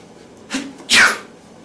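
A single sharp sneeze, close and loud, preceded by a brief quick inhale.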